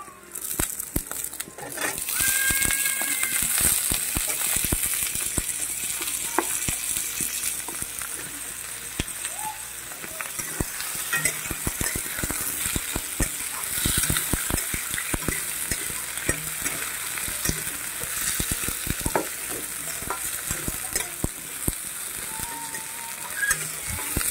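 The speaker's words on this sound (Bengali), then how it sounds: "তো এখন দিয়ে দিচ্ছি কেটে রাখা আলুগুলো" Chopped potatoes fry and sizzle in a pan of hot oil while a spatula stirs and scrapes now and then, with the crackle going steadily throughout.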